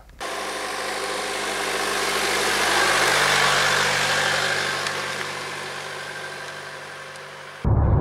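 Steady, close drone of a DS7 2.0 BlueHDi diesel car engine idling just after starting, holding an even low hum and slight vibration throughout before a brief change at the end.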